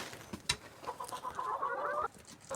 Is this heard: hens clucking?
yes